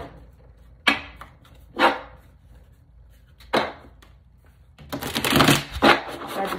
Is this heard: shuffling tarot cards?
yes